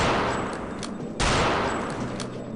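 Return to Castle Wolfenstein gunfire rings out in a game scene, with several loud reports, the strongest sharp burst near the middle, each trailing into a long echoing decay, and no talking.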